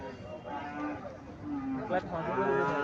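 A cow lows with long, drawn-out moos at a busy cattle market in Cumilla, while people talk nearby.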